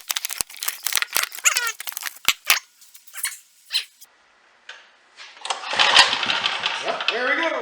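Someone talks as a Craftsman 3.5 HP tiller with a Tecumseh engine is pull-started, and the engine then catches and runs with a loud, steady, rough mechanical roar.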